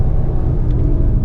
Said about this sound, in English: Oh, that Aston Martin sounds good.